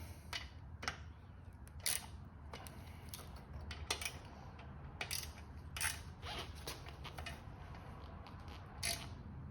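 A wrench tightens a small bolt on the front rack of a Honda Trail CT125, giving a series of sharp, faint ratcheting clicks at irregular intervals over quiet background hum.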